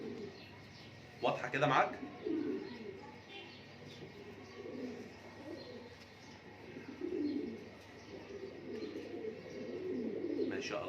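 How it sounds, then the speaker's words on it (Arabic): Pigeons cooing softly in a loft of pure-bred pigeons kept for sale, low steady murmuring calls running throughout with a brief louder burst near the start, under a man's nearby speech. "فرد حمام تحب تتفرج عليه"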